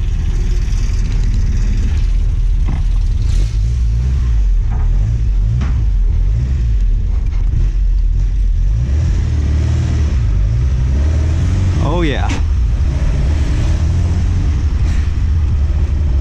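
An Alfa Romeo Giulia Veloce Spider pulling away, its engine rumbling loud and steady with rising revs as it drives off, heard close from inside the small open car, with no talking.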